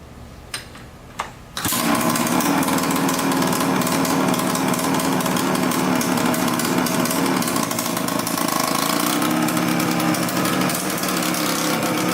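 A junkyard Yamaha Blaster quad starts moving in first gear, its small engine giving a loud, steady buzzing drone that holds for about ten seconds after a brief quieter start, with no talk.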